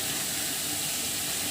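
Ginger garlic paste sizzling in hot oil with frying onions, a continuous, even hiss close up with no breaks, steady and moderately loud with no talking over it.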